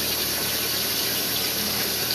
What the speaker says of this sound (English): If you want to go ahead and flush the toilet a couple of times, I'll know if it's working.